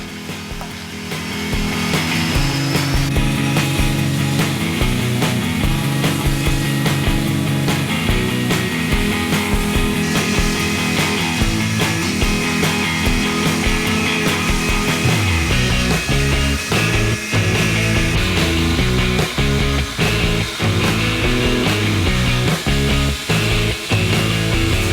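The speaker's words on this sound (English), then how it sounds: "The first step of the handle shaping process is to trim off the ends of these pins with the bandsaw." A bandsaw trims the metal pin ends on a knife handle, giving a loud, steady whirring drone with grinding, rasping cutting noise that shifts and stutters as the workpiece is fed.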